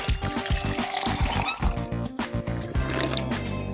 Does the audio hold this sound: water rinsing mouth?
yes